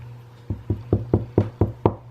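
A finger coated in dip powder taps sharply seven times in a steady rhythm to knock off the excess, each knock close and distinct.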